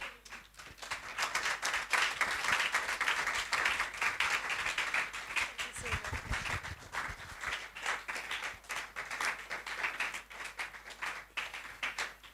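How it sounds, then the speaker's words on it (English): Sustained audience applause after a talk on virtual assistant careers and no-code tech, dense steady clapping from a crowd lasting throughout without speech. "Ladies and gentlemen, I think she deserves another round of applause, please."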